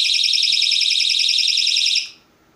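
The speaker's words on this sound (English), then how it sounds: "Let's set off the alarm for New Year's." A smoke alarm set off at home on New Year's gives a loud, steady, pulsing high-pitched beep that runs continuously, then cuts off abruptly near the end, leaving near silence.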